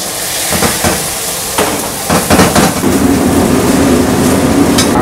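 Loud, steady hissing sizzle of hot oil in a pan in a restaurant kitchen, broadband and continuous, with a few sharp crackles and clatters over the top.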